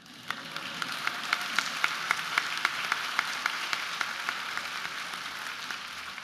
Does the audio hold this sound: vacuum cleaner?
no